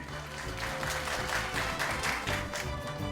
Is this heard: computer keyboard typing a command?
no